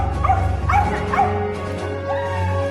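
Dogs bark loudly in three quick bursts, then a softer yelp, over a steady droning background sound.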